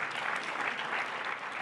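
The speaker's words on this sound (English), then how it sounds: "Round of applause" A live audience gives a round of applause. The clapping is steady, dense and fairly quiet, and it holds evenly throughout with no clear voices.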